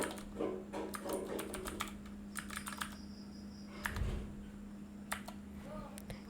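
Rapid clicking keystrokes on a computer keyboard as a coupon code is typed, a quick irregular patter of key presses with a short gap midway, close and fairly quiet over a faint steady hum.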